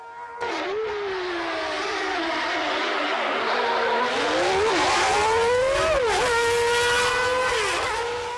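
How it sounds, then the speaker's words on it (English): Ayrton Senna's racing car is heard in a reconstruction of his fastest lap, its engine wailing at high revs, rising and dipping through gear changes as it brakes and accelerates through corners, loud and continuous throughout. "you actually almost experienced Ayrton Senna driving around the track the way you would have seen it on the day"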